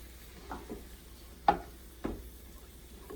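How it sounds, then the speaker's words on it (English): Food cooking with soy sauce gets stirred in a pan, a quiet sizzle broken by a few distinct scrapes and knocks of the spoon against the pan, close up and with no talking. "Give it a good stir."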